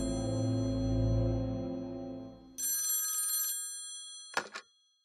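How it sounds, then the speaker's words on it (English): An office telephone rings as an audio drama effect: a bright electric bell trill sounds once, cutting in over a fading low musical bed, then a short second burst follows after a brief pause. "It would only be a few days later when the phone in my office rang."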